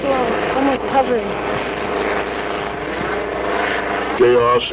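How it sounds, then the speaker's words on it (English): A police helicopter flies slowly, nearly hovering over a blockade, its rotor and engine droning steadily and loudly beneath a voice talking throughout. "Helicopter is flying real slow, almost hovering."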